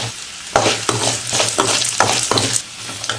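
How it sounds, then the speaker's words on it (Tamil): Dal, garlic and dried red chillies frying in a pan, a loud close sizzle broken by regular scraping strokes of a spoon stirring, about every half second, with no talk. "பருப்பு நல்லா பொன்னிறமாக வறுத்துக்கலாம்"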